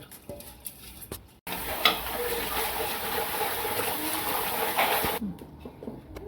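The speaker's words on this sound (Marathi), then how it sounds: "आता आपण उडदाची डाळ धुवू" Water swishes and sloshes steadily for several seconds in a bowl of urad dal lentils being washed, close by, bracketed by quieter kitchen clicks before and after.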